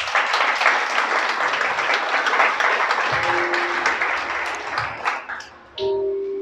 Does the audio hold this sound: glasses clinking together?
no